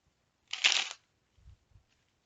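A deck of tarot cards is shuffled once in a quick riffle, followed by a couple of soft thumps in an otherwise quiet room.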